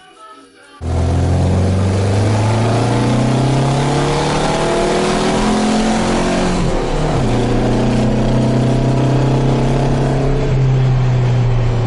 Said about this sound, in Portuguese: Subindo de giro mais limpo do que antes da gente mudar do 115 pro 110, e tá praticamente com o mesmo empuxo